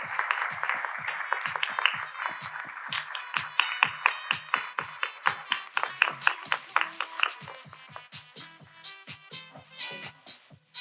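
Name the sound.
audience applause for the speakers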